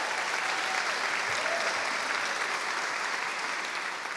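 Steady, dense audience applause honoring Sandra at a live-streamed event, a broad even wash of many hands clapping throughout, fairly close and loud with no voices standing out.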